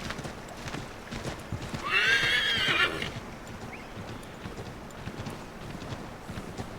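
A horse in Assassin's Creed III gallops with continuous hoof clip-clops and lets out one loud whinny partway through, under game ambience.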